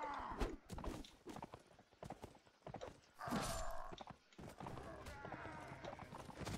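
A lame horse's hooves clip-clop in the medieval combat game Mount & Blade: Warband: irregular, close thudding steps with game effects, mixed with someone talking.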